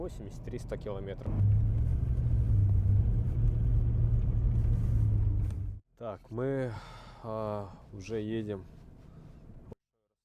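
A car drives a long road in Siberia near Yakutsk before dawn, its engine a loud, steady low rumble for several seconds that cuts off abruptly, followed by a voice talking over a quieter hum.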